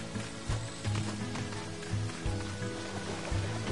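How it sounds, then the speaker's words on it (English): Steady rain patters in the farming game Sakuna: Of Rice and Ruin, a soft, even hiss under repeating background game music, with no one talking. "Oh boy, it's been raining."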